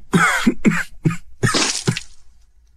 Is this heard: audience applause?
no